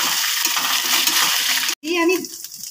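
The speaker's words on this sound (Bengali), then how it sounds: "আদা বাটাটা দিয়েও আমি কয়েক সেকেন্ড ভালো করে একটু কষে নেব" Ginger paste fries in hot oil in a pan, a steady loud broadband sizzle for nearly two seconds, briefly cut off, then resuming with stirring scrapes and softer crackle.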